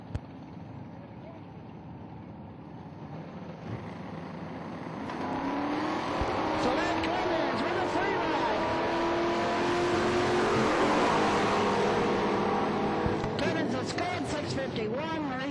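A pair of 1967 and 1968 Chevrolet Camaros at a drag race, engines idling then swelling into loud, sustained revving as they stage on the line, with a crowd and announcer talking underneath.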